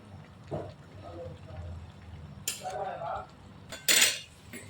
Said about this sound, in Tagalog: Yan, akin na hahaluin yung ating pancit